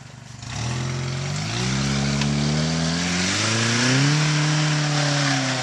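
A Jeep out off-road wheeling kicks in after a moment of quiet, and its engine revs loud and close, climbing in pitch in several stepped surges.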